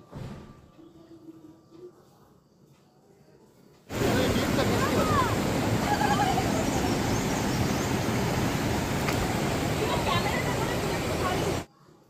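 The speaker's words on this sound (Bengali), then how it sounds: "জলের মধ্যে পা দিয়ে জল ছড়িয়ে ছড়িয়ে খেলা করছে" Feet splash and churn water in the Rangit river, a loud, dense, steady rush of water that starts abruptly after a quieter stretch of faint background voices and cuts off near the end.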